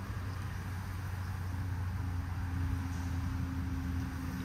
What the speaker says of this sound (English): You can hear the cars.